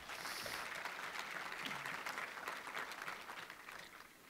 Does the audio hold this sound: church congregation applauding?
yes